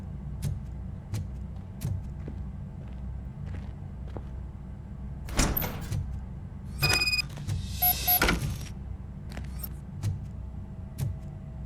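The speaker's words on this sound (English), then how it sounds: "Now let me get that door open for you." Door opening in the video game Robocop: Rogue City: a few sharp mechanical clunks and a whirring slide over a quiet low background hum, with no speech.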